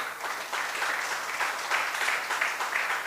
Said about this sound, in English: big round of applause for Mark, please